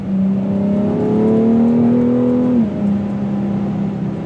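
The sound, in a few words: BMW X3 M straight-six engine revving with sport exhaust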